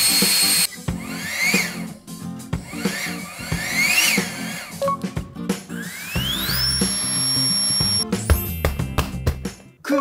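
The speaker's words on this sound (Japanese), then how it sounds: "こちら本体、ダブルクリックでエアポンプが起動。" A palm-sized cordless electric air pump runs with a loud, close motor whine whose pitch repeatedly climbs and settles, then holds a higher, steady note before switching off.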